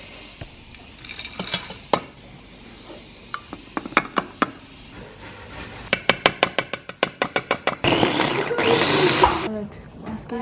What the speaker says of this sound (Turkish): Önce yapacağımız şey yulafı rondodan mıdır, blenderdan mıdır? Toz olana kadar geçirmek.